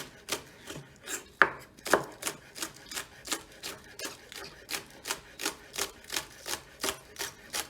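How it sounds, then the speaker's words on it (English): Rapid, even knife strokes thinly slicing green onions on a cutting board, a steady close rhythm of crisp taps continuing throughout with no voices. "thinly sliced green onions"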